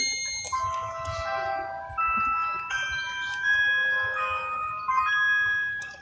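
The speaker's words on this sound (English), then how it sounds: "That's pretty incredible sound from just a small brick, isn't it?" Lego Smart Brick toy synthesizer playing a sequence of bright electronic chime-like tones and warbling notes, layered and continuous over a low background murmur.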